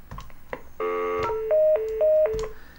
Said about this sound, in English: when I dial 0, I can't connect to the 0 extension